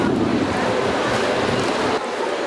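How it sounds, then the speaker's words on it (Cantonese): Strong typhoon wind gusting along the Tsim Sha Tsui harbourfront in Hong Kong as rain starts, a steady loud roar of wind buffeting the microphone throughout, easing slightly near the end. "颱風莫拉菲逼近，市區風勢下午明顯增強，仲落起雨上嚟"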